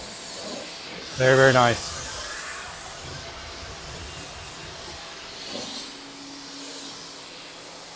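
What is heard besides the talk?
hose water rinsing soapy car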